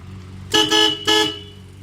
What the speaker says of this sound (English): That's all I wanted, the horn to work again